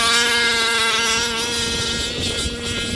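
A boat engine running at half throttle, a loud steady buzzing drone with a strong whine held evenly from start to finish, close by and with no talk over it.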